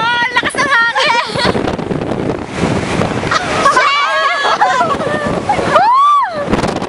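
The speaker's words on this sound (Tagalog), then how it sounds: "Ang lakas ng hangin!" Blustery wind in Batanes, Philippines buffets the microphone with a roaring rush, while people shout and cheer excitedly close by.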